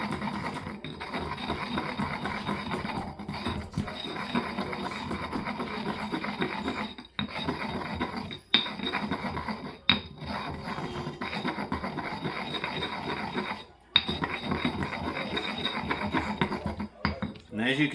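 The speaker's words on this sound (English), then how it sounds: "And then you just grind it all together." Herbs being ground into a poultice paste with steady, close rasping and rubbing strokes that repeat for many seconds, with a few brief pauses and knocks.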